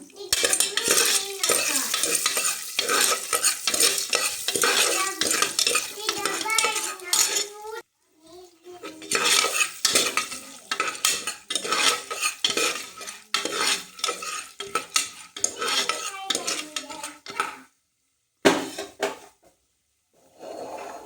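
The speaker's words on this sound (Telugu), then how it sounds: "ఇప్పుడు ఒకసారి ఇలా కలుపుదాం" Popcorn ingredients stirred in a pressure cooker pot, with repeated close metallic scrapes and clinks of a spoon against the pot over a faint sizzle. The stirring stops briefly in a few short pauses.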